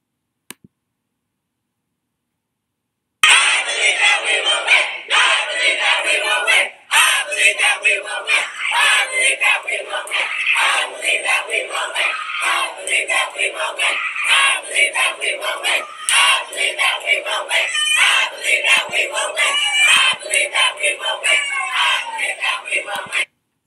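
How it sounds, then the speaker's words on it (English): Students outside a university administration building cheer and scream loudly after silence, a roaring crowd of yells and shouts rising in waves that keeps going for about twenty seconds. "Students cheering as the leaders return from the meeting with signed negotiations."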